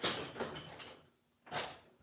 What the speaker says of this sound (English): I'm pushing in on basically the center of the door.